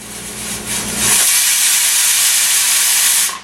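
A pressure cooker on a stove releases its second whistle while cooking kidney bean rice and peas: a loud, sustained steam hiss that builds and holds steady for about two and a half seconds before cutting off abruptly.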